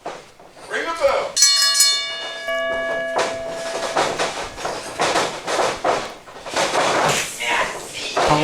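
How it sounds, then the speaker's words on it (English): A wrestling ring bell clangs once to start a middleweight title tournament match, a loud metallic ring that hangs and decays over a couple of seconds amid crowd noise and commentary. "Ring the bell."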